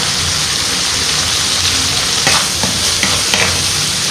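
Stink beans stir-fried with shrimp paste, shrimp and oyster sauce sizzle loudly and steadily in a hot pan, with a few sharper scrapes and stirring clatters near the end.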